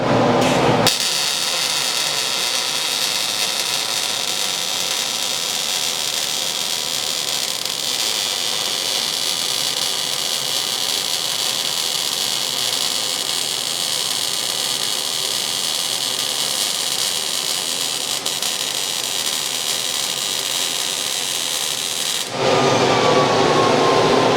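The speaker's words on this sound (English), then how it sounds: "and now we're going to try to weld." MIG welding on a workpiece, a loud continuous buzzing crackle of the arc that runs steadily for about twenty seconds before cutting off, with no talking over it.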